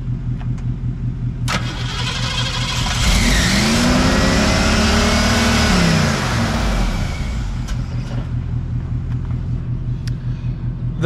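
A 1970 Ford Mustang V8 idles with a lumpy rhythmic rumble, swells into a loud rev with a squealing belt sprayed with penetrating lubricant, then settles back to a steady idle, heard up close.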